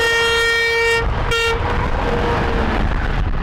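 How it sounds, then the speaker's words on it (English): Vehicle horns honking at an event in support of veterans: a loud, close, sustained horn blast, a short second toot after a brief gap, then engine rumble as vehicles carry on. "Every time you hear that horn, you know that somebody's remembering"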